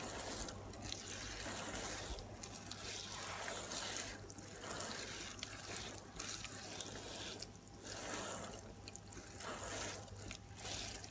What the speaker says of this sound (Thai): จากนั้นก็รดน้ำตามค่ะ